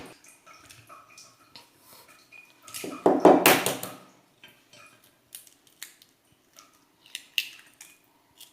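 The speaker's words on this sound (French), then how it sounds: "Je vais mélanger" Bread stuffing with eggs being mixed in a bowl, a short burst of scraping, clinking utensil-on-bowl sounds in the middle, with sparse small clicks and taps before and after, close and fairly quiet.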